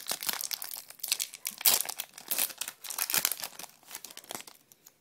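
A Pokémon Neo Destiny booster pack being opened: close, crinkly foil wrapper crumpling and tearing in irregular bursts, fairly quiet, with no talking.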